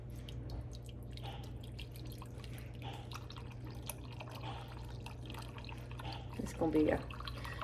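Hot water pours briefly into a coffee cup near the end, a short splashing trickle rising over a steady low kitchen hum with faint background murmur.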